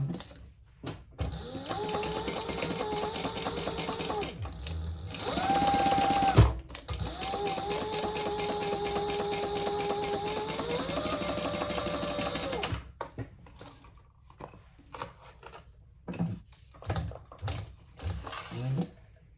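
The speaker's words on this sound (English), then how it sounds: "we're going to stitch that together at the seam allowance" A sewing machine stitches a seam on a small traveler sling bag, humming steadily in two long runs with a short pause between them, then stopping, followed by faint handling clicks.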